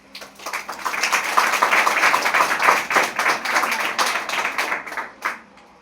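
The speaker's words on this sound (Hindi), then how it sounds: "इसलिए अपने लिए आप लोग ताली बजा लीजिए।" A room of students claps together at a morning counselling session, a fairly loud, dense patter of hands that builds quickly, holds steady for several seconds, then thins out toward the end.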